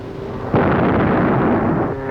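A heavy boom of artillery fire or a shell burst from a 1935 film erupts suddenly, loud and broad, then sustains as a rumbling roar for over a second before cutting off.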